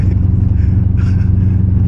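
A Dodge Charger Scat Pack with a loud exhaust rumbles in a deep, steady low drone while driving, heard from inside the car close up and without speech.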